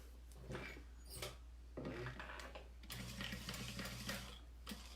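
A domestic sewing machine top stitches a saddle bag through its lining side with a half-inch seam allowance and 3.5 stitch length, running in several short bursts of rapid mechanical whirring and clatter separated by brief pauses, fairly close.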